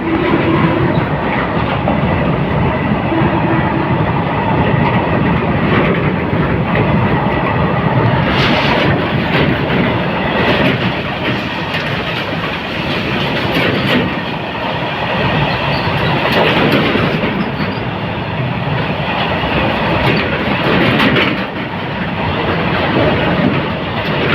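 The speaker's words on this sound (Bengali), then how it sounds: "ক্রসিং উইথ মাল গাড়ি" A goods train rumbles steadily past close by on the New Jalpaiguri to New Alipurduar line, a loud continuous roar with rhythmic clattering of wagons on the rails.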